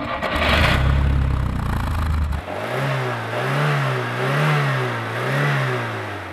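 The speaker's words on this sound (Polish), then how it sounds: "Po rozruchu silnika auto zaczyna mruczeć przyjemnie" A Fiat car engine cranks and catches with a loud, rough burst, then settles into a close, steady idle whose pitch rises and falls in a slow, regular wobble.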